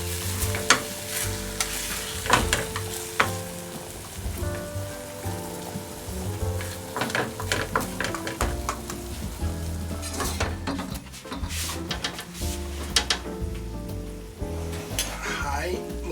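Hot oil spooned over a whole roast chicken that has cooked over an hour crackles and sizzles steadily, with clinking spoon strikes and bursts of spattering throughout, close and fairly loud with no talking.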